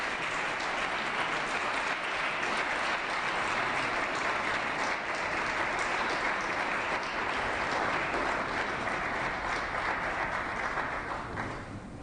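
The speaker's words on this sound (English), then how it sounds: "join me in a warm round of applause for today's honorees" A large crowd at a state Assembly floor session applauds honorees in a long, even round of clapping that holds steady before tapering slightly at the end.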